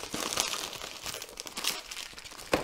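Packaging for an airbrush kit is unwrapped up close, with a few seconds of crinkling and rustling plastic and paper and sharper crackles near the end, with no talking.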